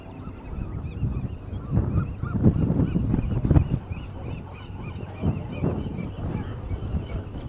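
Seagulls calling outdoors, a steady chorus of many overlapping squawks and honks from a crowded colony, loud and close, continuing for several seconds with no talk.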